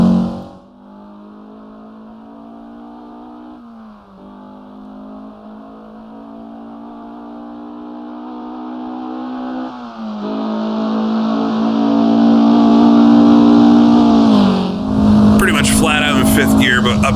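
A race car in the Assetto Corsa racing game drones through a fast section of circuit, engine pitch climbing steadily through the gears with brief dips at shifts, loud and continuous while someone talks over it.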